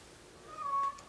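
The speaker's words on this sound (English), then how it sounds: "I apologize for my cat. He's meowing at my door." A pet cat meowing at a door indoors, a single drawn-out meow, faint and somewhat distant, with no one talking.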